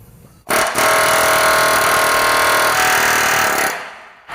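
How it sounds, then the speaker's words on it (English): A pneumatic air hammer with a sharp tip knocks rivets off a truck frame, a loud, close, rapid continuous hammering burst lasting about three seconds before it stops. "The key is a sharp tip on a air hammer."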